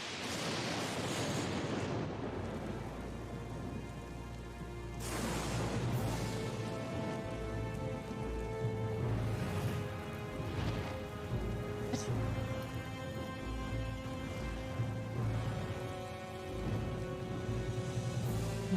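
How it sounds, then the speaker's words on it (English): Heavy rain pours steadily during a thunderstorm in Professor Layton vs Phoenix Wright, with deep thunder rumbles rolling in near the start and again around the middle, a constant dense hiss underneath while soft music plays. "There was a thunderstorm on the way"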